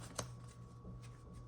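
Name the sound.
shuffling a thick deck of cards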